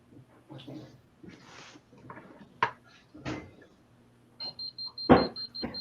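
Red beeper on a radiation/EMF meter sounding a rapid series of short, evenly spaced high beeps near the end, after scattered handling knocks and rustling; voices talk faintly earlier.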